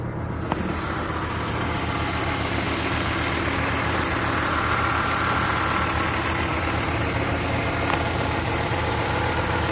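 A 1996 Volvo 850R wagon engine idles steadily at close range, a continuous low rumble with mechanical vibration that holds even throughout, and nobody speaks over it.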